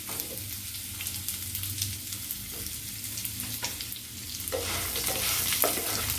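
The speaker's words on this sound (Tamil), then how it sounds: "இப்போ நம்ம நல்லா வந்து கொஞ்சம் எண்ணெய் ஊற்றி நம்ம எல்லாத்தையும் வதக்கிடுறோம்" Two large onions sauté in oil in a pan for a Tamil thuvaiyal, giving a continuous close sizzle with intermittent scraping stirs that grows slightly louder toward the end, with no talking.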